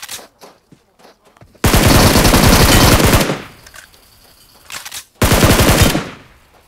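Bursts of rapid automatic gunfire in PUBG Mobile, two long loud volleys separated by quieter scattered shots and brief pauses.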